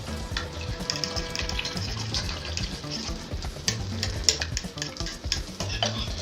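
Butter melting and foaming in a pan before scrambled eggs, with steady fine crackling and sizzling, light stirring and occasional clinks of utensils against the pan, close up and without talk.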